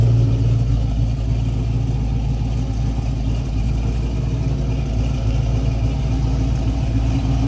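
Steady, loud idle of a freshly tuned 1967 Chevy II Nova running a 350 V8 crate motor, a continuous low rumble heard from behind the car with no voices over it.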